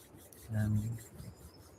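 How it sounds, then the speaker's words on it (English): Hands rubbing together in a quiet meditation setting, a single soft swishing rub of about half a second, close and gentle, with near silence on either side. "rubbing your hands together, placing them on your eyes."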